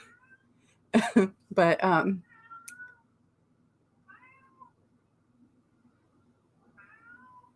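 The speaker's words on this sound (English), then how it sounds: "I don't know if y'all can hear his cat." A cat meows a few times, with a couple of louder, drawn-out cries followed by fainter, more distant meows, while a person speaks briefly nearby.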